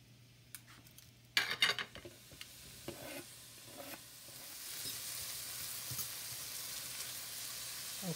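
Small piece of butter melting in a pot while salmon is cooked, a soft continuous sizzle that builds and steadies, with clinks and stirring knocks of a utensil on the pot early on, close by and without talk.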